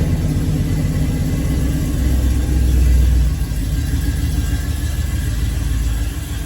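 The 440 V8 of a 1970 Plymouth Sport Fury GT runs with a deep, throbbing rumble, swelling briefly as it's revved, then settling back to a steady, loud burble close by.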